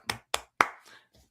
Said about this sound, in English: Just a nice golf clap.